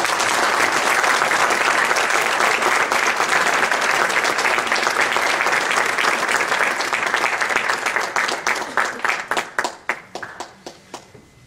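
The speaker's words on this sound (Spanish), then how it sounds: "Un aplauso para él, por favor" An audience at a spiritual panel applauds a speaker being welcomed to the podium, a loud dense wash of clapping that thins into scattered individual claps and fades out near the end.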